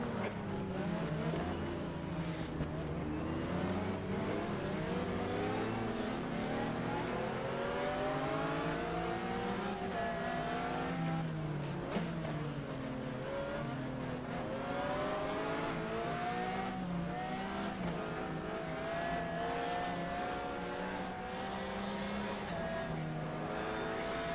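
Endurance-era race cars, including a Ferrari and Porsche, roar around the track in GTR2, a steady, continuous blend of engine drone and shifting revs with cars passing close by.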